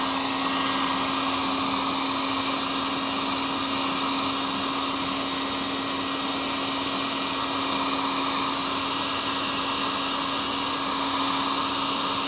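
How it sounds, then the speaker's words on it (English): Heat gun blowing steadily to warm adhesive during a tail tidy install on a CF Moto 675SS motorcycle, a continuous close, loud whooshing airflow with a constant motor whine and no talk. "Hit it with the heat gun."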